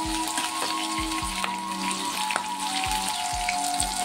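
Mushrooms fry in a hot pan with a steady, dense sizzle and spatter heard close up, alongside a few low knocks and a faint tonal hum in the background.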